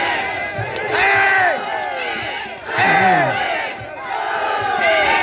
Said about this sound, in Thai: โอ้โหเสียงเชียร์